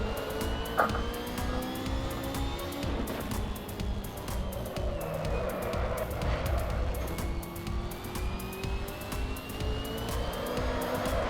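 Race car engine sustained at high revs in the Assetto Corsa racing game, tires squealing and sliding through a corner, continuous and loud without any pause.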